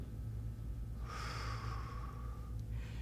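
A breath drawn in through the nose during a seated Pilates-style warmup for seniors: one close, airy inhale lasting about a second and a half, followed by a brief softer breath, with no talk.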